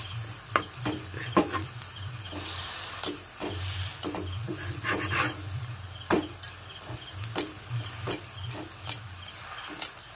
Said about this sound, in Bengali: আর এটাকে একদম হালকা আঁচে ভেজে নিতে হবে